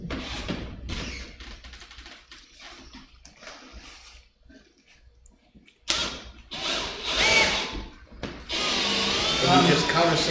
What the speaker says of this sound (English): you just countersink that screw in that rubber bumper